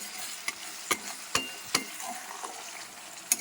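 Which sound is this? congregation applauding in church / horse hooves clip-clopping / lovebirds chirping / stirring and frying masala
stirring and frying masala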